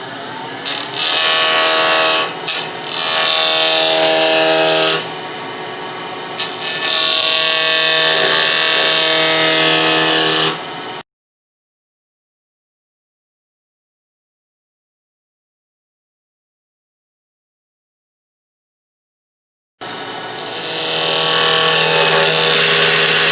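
Wood lathe turning a square gavel blank round, a loud steady whirring drone with rhythmic tool chatter against the spinning corners, running for about eleven seconds, then silence, then starting again.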